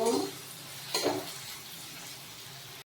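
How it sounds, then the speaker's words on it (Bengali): Tomato fries in a pan with a soft, fairly faint sizzle, broken by brief stirring scrapes and a clink of utensils near the start and middle. "টমেটোটাও ভাজা ভাজা করে নেব"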